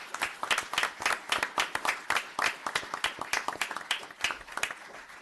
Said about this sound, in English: A nice round of applause for Lieutenant Sansone.